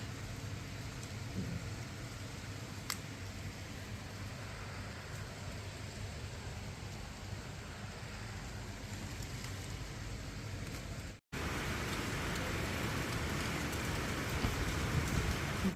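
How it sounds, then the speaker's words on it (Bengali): Steady rain pours outside with a soft, constant hiss, briefly cutting out near the end before returning louder. "বাইরে বৃষ্টিটা বেশ ভালোই শুরু হয়েছে"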